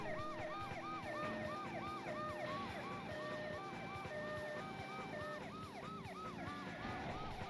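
An ambulance siren in the video game Driver 2 wails in steady, repeating rising-and-falling cycles throughout, fairly quiet, over low engine and traffic rumble, with no talking.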